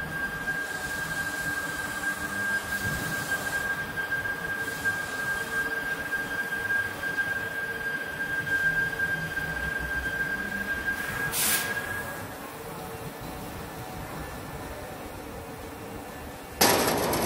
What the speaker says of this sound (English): roll forming shapes the metal gradually over multiple roller stations